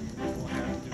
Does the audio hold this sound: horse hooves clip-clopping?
yes